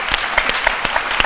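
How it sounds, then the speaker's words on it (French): Applause from a studio audience on the set of a live Ivorian television midday show, a steady wash of clapping with scattered sharper claps standing out, moderately close and loud throughout. "J'espère qu'ils vont s'applaudir."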